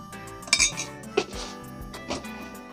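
Spoon clinking against a dish while salt, chilli powder and turmeric powder are stirred into Kerala-style lemon pickle, a few sharp close taps and scrapes with quiet gaps between them.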